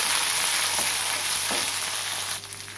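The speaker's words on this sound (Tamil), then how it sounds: "நல்லா கிளறி விடுங்க" Dried red chillies and shallots fry in a pan for a vallarai keerai thuvaiyal with a steady hissing sizzle, broken by a few soft scrapes of stirring, the sizzle easing near the end.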